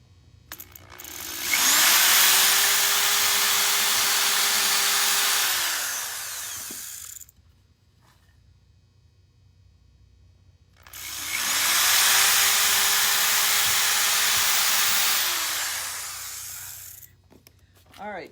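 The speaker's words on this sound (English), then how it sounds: "All right, drilling is done." Electric drill boring holes for magnet earrings and pendants: two long, loud, steady whirring runs of about six seconds each, separated by a brief quiet pause, with a speed-change hum near the start and end of each.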